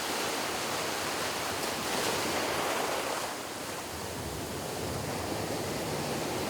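Rough surf breaking steadily on a Sri Lankan or Mauritian shore where fishermen use fixed poles, a continuous loud roar of waves with wind across the whole stretch.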